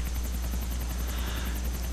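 Helicopter rotor in a GTA video game, a steady loud thumping drone with a low engine hum as the aircraft comes down to land, continuous throughout with no voices.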